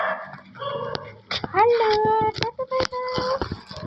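A pet dog barks and whimpers in a series of sharp yips and whines close by, interleaved with someone talking to it.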